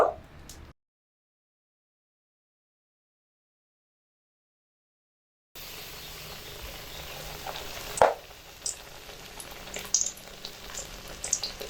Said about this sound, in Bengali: গরম তেলের মধ্যে বেগুনের পিসগুলো বেসনের মধ্যে মাখিয়ে একটা একটা করে দিয়ে দেব।